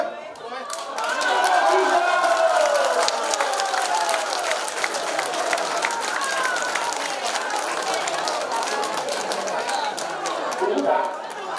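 A crowd applauds at a temple contest where cups are cast to choose the incense master. Brisk, scattered clapping mixes with loud chatter and movement, and voices run through the whole stretch.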